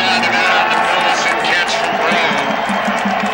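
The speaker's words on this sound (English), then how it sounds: "Nevada crowd finally with something to cheer about" A Nevada home crowd cheers at a 2002 college football game against Boise State after a completed pass for a first down. A broad, steady stadium roar stays loud throughout, with a commentator talking over it.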